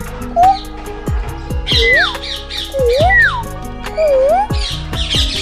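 Bird at a safari park in Gazipur, Bangladesh, giving loud, close squawks and whistled, swooping calls in short repeated bursts, with a clicking sound beneath.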